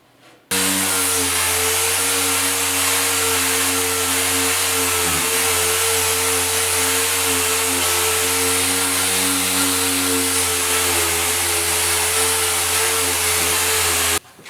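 A sander working lightly with 150-grit paper over glaze filler on the tailgate of a 1972 Ford 4x4 pickup, a loud, steady mechanical whine that starts abruptly and holds unbroken for about fourteen seconds before cutting off.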